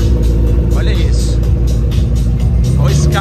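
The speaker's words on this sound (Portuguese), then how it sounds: "Olha o escape dessa P1." McLaren P1 exhaust rumbling loudly and steadily at close range amid a busy car event with other supercars, a low continuous drone with a brief rise near the end, voices and crowd chatter mixed in.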